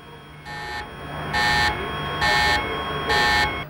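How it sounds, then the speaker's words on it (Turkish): A buzzing electronic alarm sounds in a Chernobyl reactor control room in 1986, four evenly spaced blasts, each about half a second long, loud over a low hum. "Bütün kontrol tablolarından sinyaller geliyor, alarm zilleri çalıyordu."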